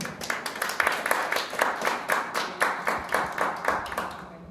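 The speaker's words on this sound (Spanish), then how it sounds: "Recibámosla con un fuerte aplauso, por favor." An audience claps steadily for several seconds, a dense patter of many hands with a few louder individual claps standing out.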